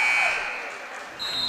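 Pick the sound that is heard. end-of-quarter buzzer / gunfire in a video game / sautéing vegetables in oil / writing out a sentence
end-of-quarter buzzer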